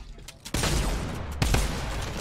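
Tommy gun firing in Fortnite, a sudden dense burst of rapid automatic shots that keeps going loud and close, with a short pause before a second burst.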